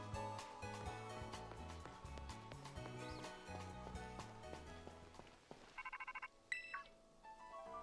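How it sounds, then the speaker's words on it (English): An incoming phone call rings in the video game Pokemon Scarlet, a short electronic ringtone of repeated beeping tones entering over background game music near the end. "Oh, we got a phone call."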